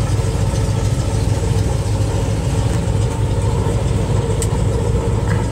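A 1973 Cadillac Superior hearse engine running steadily and loud up close, a continuous low rumble with faint rising throttle, no talk.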